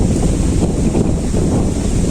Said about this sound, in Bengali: তো দক্ষিণ দিক থেকে বাতাস আসতেছে